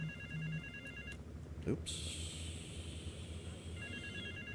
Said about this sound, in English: I need to put my phone on silent.